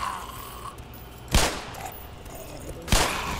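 Two loud gunshot bursts in the Black Mesa video game, spaced about a second and a half apart, each a sharp broadband crack with a short decaying tail over quiet ambient hum.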